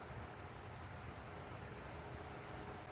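A cricket chirps steadily and continuously in a quiet indoor setting, its rapid high pulses repeating evenly throughout.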